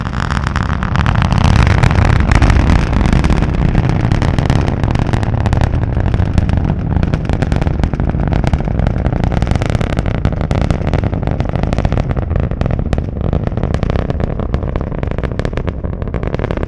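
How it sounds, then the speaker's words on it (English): Loud, continuous deep rumble from the Merlin engines of a SpaceX Falcon 9 rocket climbing away during a Starlink satellite launch, crackling and roaring steadily with no voices. "Now starting to hear the rumble of those Merlin engines."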